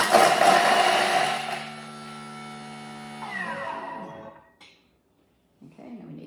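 A Thermomix runs at speed 7 chopping tomato and salami, giving a loud, busy motor whir with chunky clatter. The whir steadies, then winds down and stops about four and a half seconds in, followed by a brief quiet clunk.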